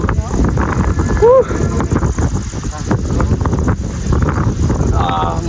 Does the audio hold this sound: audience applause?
no